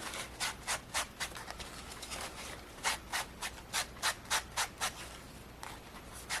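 Tim Holtz Distress ink in walnut stain rubbed along the edges of paper for a paper scarecrow craft, a run of soft, close scrubbing strokes in a quick irregular rhythm, quiet, with no talking.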